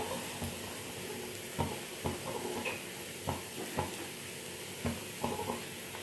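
Pesarattu, a mung bean dosa, sizzles in a pan as onions are added, a soft frying hiss punctuated by light scattered taps and scrapes; no voices.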